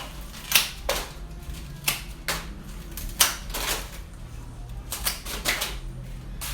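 Stems of a hand-tied spiral flower bouquet being cut to length, heard as several sharp, crisp snips spaced irregularly, close and moderately loud over quiet background.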